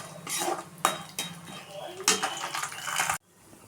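Peanuts and chana dal roasting in a pan, stirred briskly so a utensil scrapes and clatters against the metal in uneven strokes close up, stopping abruptly near the end.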